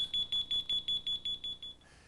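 A home motion sensor alarm goes off with about ten rapid, evenly spaced high-pitched beeps that grow gradually weaker over two seconds, fairly quiet and alone.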